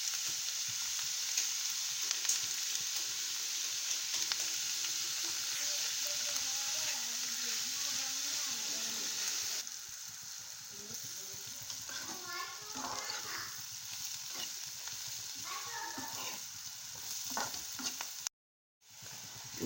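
Chopped onion frying in a pan with salt, a steady broadband sizzle running throughout, with brief children's voices and chatter audible in the background partway through.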